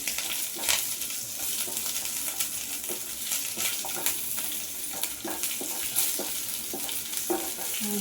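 Cumin seeds and curry leaves, with green chillies, sizzle and crackle steadily in hot oil for jeera rice, a dense continuous frying hiss with scattered pops and a few spoon clinks, close and alone without talk.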